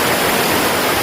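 Strong rushing water of a waterfall on a river in Mindanao, a dense, loud, continuous roar close by, with no voices.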